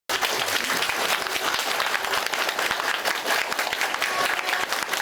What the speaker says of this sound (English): Now, I would like to once again invite everyone to stand up and give a round of applause to Khenpo.